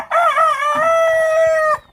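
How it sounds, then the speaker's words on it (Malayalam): A Kairali rooster kept with native chickens lets out a single loud, sustained crow lasting over a second, close and clear, with no talking. "ഇതിനകത്തൊരു കൈരളി പൂവനാണ്"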